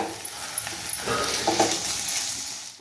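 Mixed vegetables sizzling in a pan while being stirred with goda masala, a continuous hissing fry with soft scraping strokes rising in the middle, no voices.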